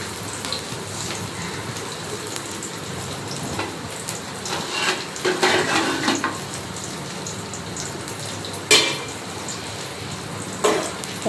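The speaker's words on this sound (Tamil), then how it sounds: "வெங்காயம் கொஞ்சம் கோல்டன் ப்ரௌன் வர வரைக்கும் நல்லா வணக்கிக்கலாம்." Onions and green chili saute in a pan with a low, steady frying hiss, broken by scattered louder stirring clatters and a couple of sharp knocks against the pan.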